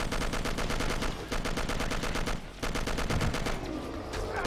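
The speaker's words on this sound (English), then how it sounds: "Use that new machine gun of mine." A machine gun in the video game Will Rock fires in fast, rapid bursts, loud and close, with a brief pause before the firing resumes.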